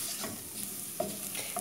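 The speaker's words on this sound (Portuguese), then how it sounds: "nosso alho já tá fritinho" Garlic frying in a pan for a lighter feijoada, with steady close sizzling, a few brief stirring scrapes and clinks of a utensil against the pan, and no talking.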